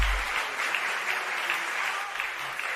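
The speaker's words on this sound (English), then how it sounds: "Yes, applause." Studio audience applauding at a gala audition finals, a dense, even wash of clapping filling the short stretch at moderate volume.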